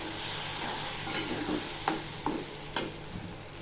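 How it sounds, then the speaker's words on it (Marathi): A ground dal and besan mixture is stirred in a hot pan with turmeric, giving a steady soft sizzle with a few distinct spoon scrapes and knocks, close by and without any voices. "हे वाचून घेतलेल्या डाळीचं मिश्रण टाकायचं आणि चांगलं ह्याला हलवून घ्यायचं"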